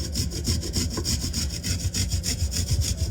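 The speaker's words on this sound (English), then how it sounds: "So there is my garlic. Here's my turmeric. I almost feel like I'm grating carrots." Garlic and turmeric rubbed against a hand grater while making tea, a steady run of quick, rhythmic scraping strokes, close and fairly loud, with no talking.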